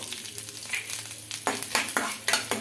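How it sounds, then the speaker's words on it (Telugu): Chana dal and coriander seeds frying in oil in a kadai, a soft steady sizzle with a series of sharper stirring scrapes and crackles building in the second half, no voices. "ఒక స్పూన్ దాకా జీలకర్ర చేసి మంచిగా ఫ్రై చేసుకోవాలి"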